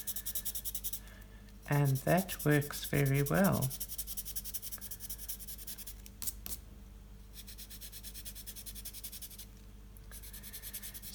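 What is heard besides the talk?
colored pencil blender rubbing on paper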